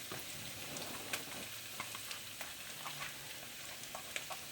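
Ten to twelve cloves of minced garlic sautéing in hot canola oil in a wok, a soft continuous sizzle with light ticks and scrapes from stirring, close and without speech.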